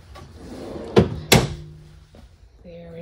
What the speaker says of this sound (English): And nice opening drawers. Yes, they glide open real well.